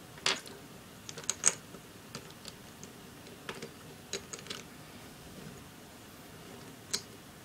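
Plastic pieces of a ShengShou 4x4 puzzle cube click and tap sparsely during assembly, each sound small and close, with quiet gaps between them.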